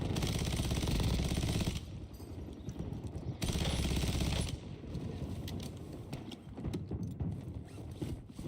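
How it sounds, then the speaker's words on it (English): Dual light machine guns firing in a video game, rapid sustained bursts that come in loud waves, easing between volleys and flaring again. "He's using double LMGs too."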